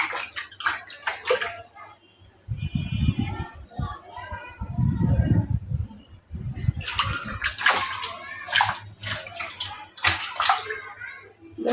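Fish leap and splash in a rooftop garden water tank, with two bursts of sloshing water in the middle, while people talk near and around the splashes.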